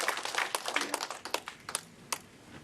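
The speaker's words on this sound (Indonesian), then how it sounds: "Tepuk tangan kita luar biasa." Applause from a church congregation, a burst of scattered clapping that peaks early and thins out over about two seconds, fairly close and with no voices over it.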